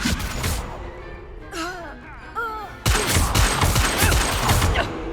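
Spell impacts from Hogwarts Legacy, a dense series of bursting, crackling blasts and thuds under continuous combat noise, with a voice shouting incantations between them.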